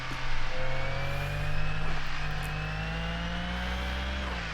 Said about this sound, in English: Very nice sounding car.